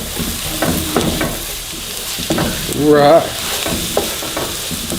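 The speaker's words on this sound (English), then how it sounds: "Put up minced garlic. Stir that in there." Minced garlic and seasoning stirred in a sizzling pan for shrimp and crawfish grits, with a steady fry hiss and repeated scraping strokes, as someone briefly speaks.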